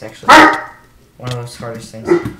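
A dog barks once sharply and loudly, then gives a couple of softer yips and whines, while a person talks over it in a gaming setting.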